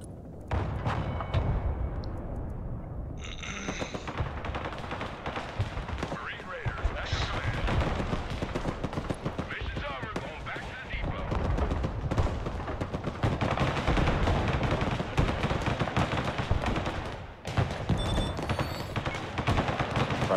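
Sustained gunfire from the Broken Arrow video game aimed at snipers, with repeated shots, bursts and heavy explosive thumps over about twenty seconds, loud and dense, under a game mix with occasional voice chatter.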